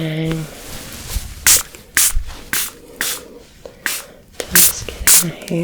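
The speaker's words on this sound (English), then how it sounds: "spraying under there" Repeated short hissing bursts of a spray bottle misting a treatment into lifted sections of hair, about nine sharp sprays at an uneven rhythm, close and crisp, with soft handling rustles between them.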